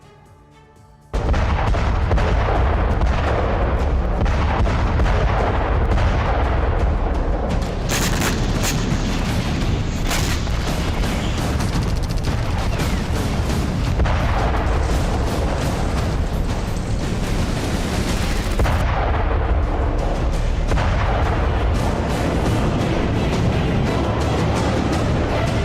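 Russian missile and artillery fire in Russia–Ukraine war footage: a sudden onset of loud, continuous booming and roaring blasts, with heavy rumbling barrages throughout and brief swells of sharper bursts.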